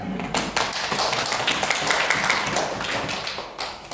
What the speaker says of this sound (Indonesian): Silakan kalau tepuk tangan.